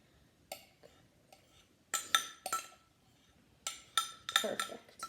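Metal spoon clinking and scraping against a bowl while scooping half a cup of butter, a few close, sharp taps and scrapes in short bursts with pauses between.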